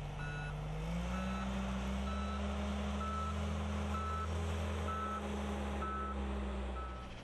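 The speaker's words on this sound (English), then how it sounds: "Even though the reverse alarm is sounding, you still need to look behind you before and while backing up." A front-end loader backs up with its reverse alarm sounding: evenly spaced, repeating electronic beeps over the steady, loud rumble of the diesel engine, nearby and continuous throughout.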